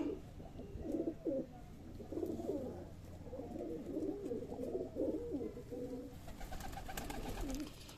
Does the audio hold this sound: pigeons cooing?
yes